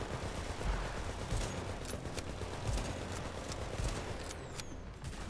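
A gun turret in The Division firing rapid bursts of shots, faint and somewhat distant, with crackling reports repeating across the whole stretch.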